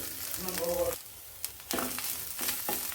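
Grated raw banana tipped onto peas frying in a pan, a steady sizzle broken by a short quiet gap and a few stirring knocks, close and fairly loud with no talk.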